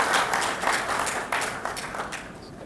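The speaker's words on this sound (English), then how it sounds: "So big round of applause to Supriya ma'am." Applause from the audience at a 5G launch event, moderately loud claps that fade gradually over a few seconds, with no one speaking.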